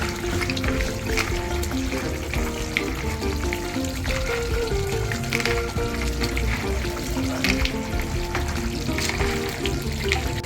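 Anchovies being washed in water for a Ghanaian sauce, a steady splashing, trickling wash with running water and faint clatter, continuous and fairly loud with no talk.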